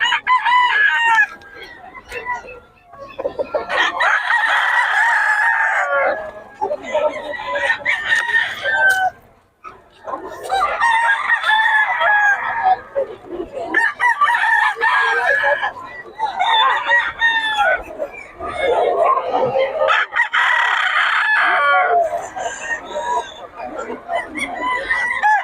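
Chickens and roosters for sale at a roadside market in Bocaue cluck and crow repeatedly, loud and close, in overlapping bursts throughout, with people talking faintly in the background.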